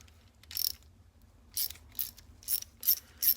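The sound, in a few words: ratchet removing a nut on a 1963 Corvette C2 rag joint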